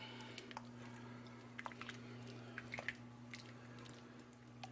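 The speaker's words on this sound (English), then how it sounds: "We're going to give this a good stir so it's all nicely combined." A pot of almost-vegetarian chilli with beans and their cooking liquid is stirred: faint, wet squelching and soft scraping in scattered bursts over a steady low hum.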